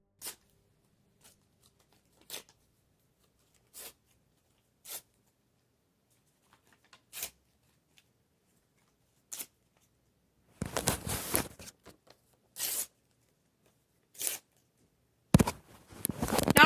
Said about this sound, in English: so rip all the paper models I made.